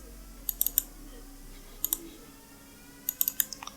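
Sharp computer mouse clicks while selecting objects in Cascadeur 3D animation software, coming in small quick clusters of two to four with quiet gaps between, close and crisp.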